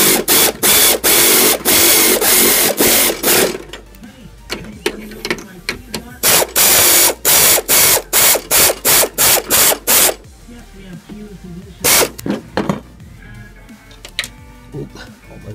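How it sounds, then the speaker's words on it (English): Ratchet tightening the large pulley nut on a lawn mower mandrel assembly gives rapid, loud clicking bursts in a repeated rhythm, with quieter handling noises and someone talking in between. "put that large nut on that holds the pulley on and start slowly tightening that down"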